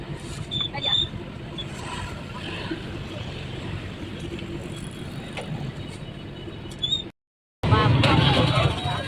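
Busy morning market street bustle in Hanoi, Vietnam, with motorbikes passing close by and a murmur of crowd noise, a brief gap, then louder traffic and voices.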